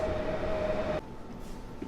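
Empty ballast wagons of a train stand or roll slowly at platform eight of the Warszawa Zachodnia station during its rebuilding, giving a steady broad rumble and hiss. A faint tone drops out partway and the noise level falls.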